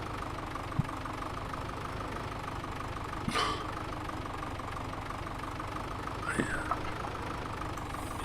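A tractor engine idles in a farming video game with a low, even rumble throughout, broken only by a few faint clicks and brief higher sounds layered on top.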